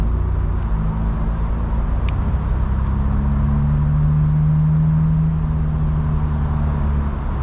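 Cabin sound from a 2025 BMW M4 Competition being driven in rear-wheel drive: a loud, steady low engine drone with a sustained tonal hum that shifts slightly in pitch, over continuous road and tyre rumble.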